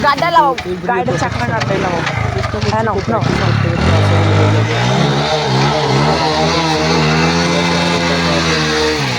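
A Kawasaki 100 motorcycle engine hums and revs steadily during wheelie practice, loud and close, with someone talking over it at first before the engine carries on alone.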